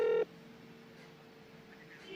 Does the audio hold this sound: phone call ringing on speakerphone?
yes